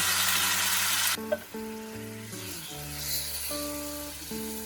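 Fennel seeds and crushed pineapple sizzling loudly in hot oil for pineapple chutney; a dense hiss that softens after about a second while sustained music tones play over the frying.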